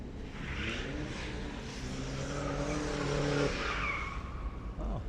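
A young driver's powerful car revving hard in the distance, a broad, sustained engine roar with rising and falling pitch and a rough squealing edge, heard alone with no talk.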